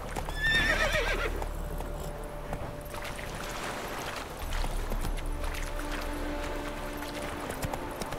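A horse in The Witcher 3 video game whinnies loudly near the start, followed by irregular hoof clops and splashing movement with in-game background tones.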